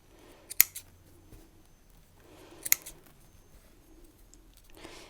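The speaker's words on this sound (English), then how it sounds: "cut all of those tails off close to the fabric, being careful not to cut the fabric itself" Sharp scissors snip thread tails off fabric close to the surface, giving two crisp isolated cuts a couple of seconds apart and a softer rustle at the end, near and quiet in a still room.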